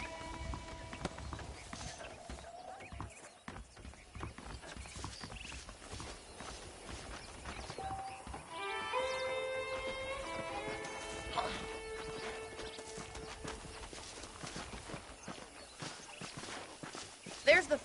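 Horse hooves clip-clop in a Western video game, a steady walking rhythm of moderate loudness running under continuous in-game speech and background music.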